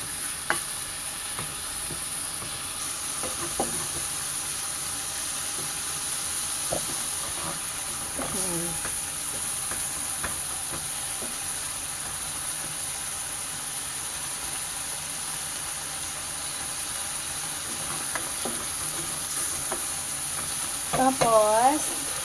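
Bicol Express cooks in a pan with a constant frying sizzle and hiss, plus occasional stirring scrapes and faint background voices.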